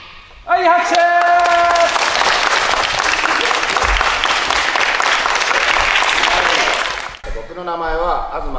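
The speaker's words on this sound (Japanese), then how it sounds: "はい、拍手。" Applause at a civic signing event for a sports agreement, a loud, sustained crowd clapping that bursts in after a brief announcement and runs about six seconds before cutting off, with talking on either side.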